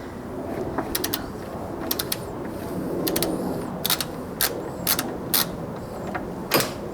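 A T30 Torx screw being backed out of a 2017 Honda Civic hatchback front bumper, heard as a series of sharp ratcheting clicks in short bursts over a low background hum, close and moderately loud.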